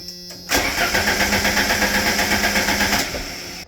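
A car engine cranks with a rapid, even, rhythmic chugging for a few seconds, loud and close, then stops without catching.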